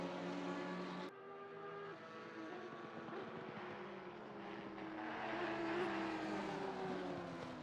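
Race car engine of a GT4 car in Assetto Corsa Competizione at Misano, roaring loud and close at sustained high revs, with a brief gear-change dip near the start before the pitch climbs again.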